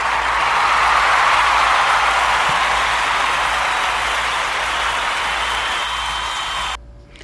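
Audience clapping at a talk show, a dense, steady wash of applause from many hands that holds loud for most of the stretch, then drops off abruptly near the end.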